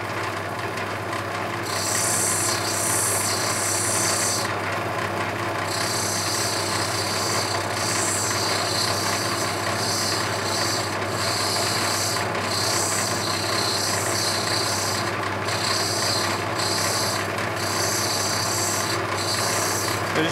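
Rough opal ground and shaped against a spinning cutting wheel, giving a loud, steady abrasive rasp over a constant motor hum, with the grinding contact cutting in and out in repeated passes and no talking.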